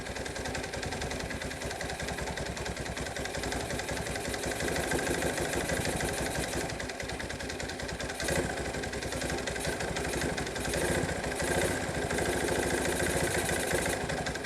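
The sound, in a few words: Kawasaki KLT185 three-wheeler engine idling after starting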